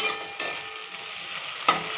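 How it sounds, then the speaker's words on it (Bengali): Chopped tomato hits browned onions in a hot pan, giving a soft continuous sizzle broken by two sharp stirring scrapes; no voices. "এবার আমি টমেটো কুচি দিয়ে দিলাম"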